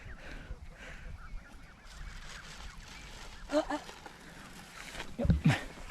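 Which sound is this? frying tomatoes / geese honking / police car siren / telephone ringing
geese honking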